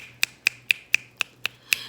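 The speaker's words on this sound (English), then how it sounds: "or I snap my fingers" Seven sharp finger snaps in a steady, evenly spaced rhythm, crisp and close with a faint low hum beneath.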